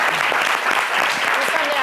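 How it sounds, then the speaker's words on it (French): Clapping from a studio audience on a television talk show, a dense and fairly loud patter that fills the short stretch without pause. "toute la salle doit être en train d'applaudir"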